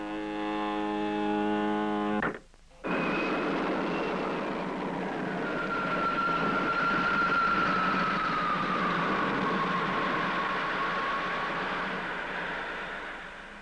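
A 1962 Space Patrol spaceship takes off: a brief buzzy electronic tone, a sharp cut, then a loud, sustained whooshing rumble with a faint sliding whine that swells and slowly fades, with no voices.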